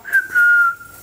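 A person whistles to call a dog, giving a short chirp followed by a longer sustained shrill tone, loud and alone outdoors.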